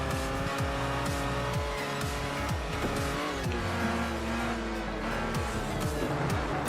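A Lancia in the racing game Forza Horizon on Xbox 360 revs loudly and without a break, its engine pitch climbing and dropping sharply with each gear change and tires squealing now and then.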